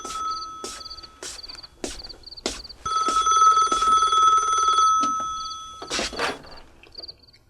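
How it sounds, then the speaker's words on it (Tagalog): An old-style telephone rings in a dramatized scene, repeated bursts of trilling bell tones with short gaps between them, heard clearly alongside other sharp knocks and clatter. "Oh, telepono."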